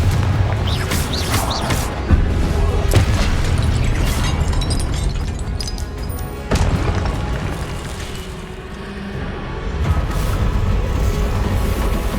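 Repeated loud spell blasts and booms in Hogwarts Legacy, including a Confringo explosion, come in a dense, chaotic run of bursts and crashes over continuous combat noise.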